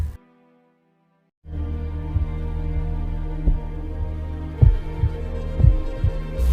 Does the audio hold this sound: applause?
no